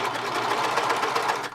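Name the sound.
serger 1034D sewing machine stitching fabric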